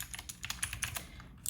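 Clicky blue switches on an AJAZZ AK33 mechanical keyboard being typed on in a quick, uneven run of crisp close keystrokes, with no voice.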